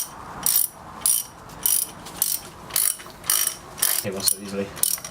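A hand ratchet clicks rapidly in even bursts while loosening valve cover bolts on a Mk4 Golf engine during a teardown, close and crisp, with a sharper clatter toward the end.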